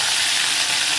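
Mustard seeds and urad dal frying in hot oil, close and loud: a dense, even crackling sizzle that holds steady for about a second, with no voices.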